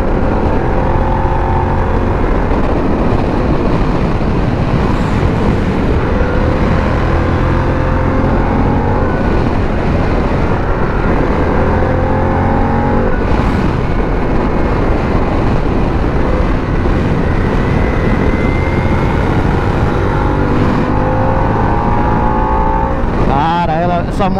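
Harley-Davidson Pan America motorcycle leaning through curves on fresh asphalt, its engine droning loud and steady with wind rush throughout, rising and falling slightly with throttle, while a rider talks over it.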